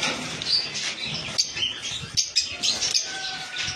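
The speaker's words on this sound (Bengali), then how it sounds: "বন্ধুরা এই পাখিটা খুব সুন্দর, ফিশার গ্রুপের পাখি।" Fischer's lovebirds at a bird farm give quick, high, scattered chirps and tweets, several calls overlapping in bursts close by with no talking.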